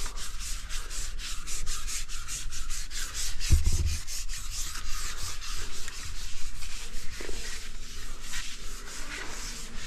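Steady rhythmic strokes of sandpaper rasp back and forth against a surface, close and continuous, with a brief knock partway through.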